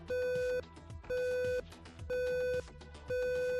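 A timer beeps inside a laser game video game, sounding four evenly spaced, loud steady electronic tones, each lasting about half a second, with short gaps between them.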